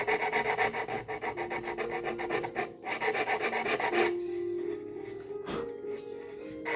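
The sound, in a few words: hand sanding the edges of a wooden piece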